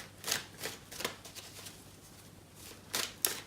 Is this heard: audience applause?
no